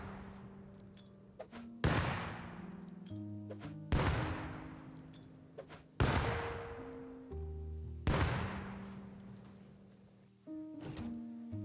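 Grenades in the survival game Rust go off one after another, five sharp booming blasts spaced about two seconds apart, each with a short decaying rumble, over a faint background of music-like tones.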